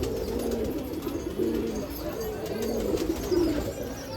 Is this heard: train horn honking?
no